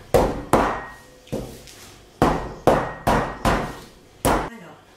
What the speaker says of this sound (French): Et je vais écraser mon beurre jusqu'à avoir une épaisseur de 1 cm.